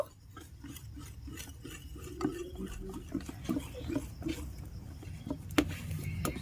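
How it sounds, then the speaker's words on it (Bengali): A hand whisk stirs eggless cake batter made with whole wheat flour in a bowl, producing soft, steady tapping and swishing strokes close by. "এখন আমি হ্যান্ড উইচ দিয়ে খুব ভালো করে মিশিয়ে নেব।"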